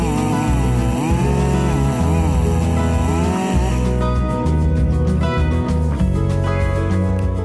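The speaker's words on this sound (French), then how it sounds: "Le trait de scie d'abattage commence par une incision latérale jusqu'à la moitié de l'arbre." A chainsaw makes a tree-felling cut, its engine roaring loud and steady throughout and rising and dipping in pitch as the chain bites into the trunk.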